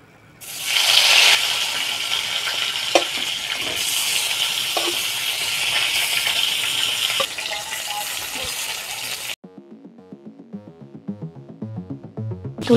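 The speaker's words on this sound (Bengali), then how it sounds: "কড়াই বসিয়ে দিয়েছি বন্ধুরা, সর্ষের তেল। এবার আমি মাছগুলোকে ভেজে নেব।" Tilapia fish dropped into hot mustard oil in a wok bursts into a loud, rushing sizzle that holds steady, with a few clatters, then cuts abruptly to quiet tonal music near the end.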